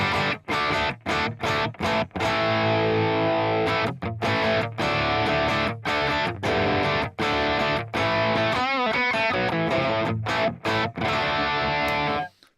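Electric guitar played through a Sonicake Matribox II on its Mesa Boogie 2C++ amp model with studio reverb, heavily distorted chords ringing in repeated bursts broken by short gaps, loud and close, with no talking.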